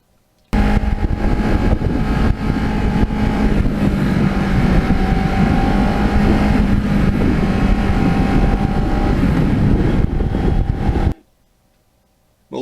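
A restored black and gold Kawasaki Ninja motorcycle on the move, its engine drone steady and loud under heavy rushing wind noise for about ten seconds before cutting off abruptly into near silence.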